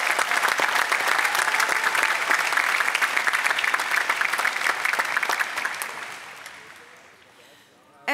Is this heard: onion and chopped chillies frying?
no